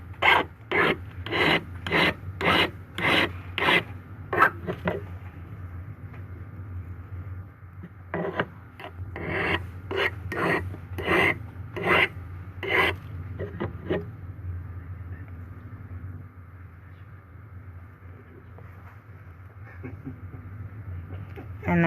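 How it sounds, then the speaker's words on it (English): A metal file rasps across the top of a rivet head held in pliers or a ring clamp at a jeweller's bench peg, a quick run of about eight strokes, then a pause, then another irregular burst of filing, close and dry. "to file the top of that rivet head without accidentally filing your piece as well"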